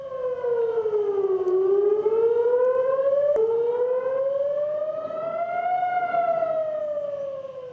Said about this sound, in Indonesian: Sirine berbunyi di seluruh Tel Aviv.